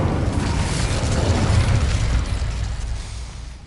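An Incendio fire spell cast in Hogwarts Legacy, a loud, roaring burst of flame that rumbles and crackles for a few seconds before tapering off.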